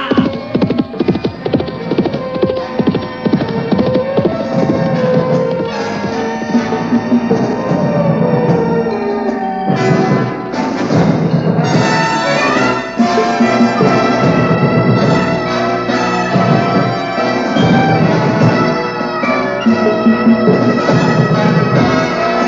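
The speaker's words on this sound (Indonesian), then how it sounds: "Kuda yang ditunggangi oleh Kumala, Ranggo Abang dan Lembu Kina berlari dengan kencang." Several horses gallop fast along a dusty road, their hoofbeats running steadily beneath loud, continuous dramatic music.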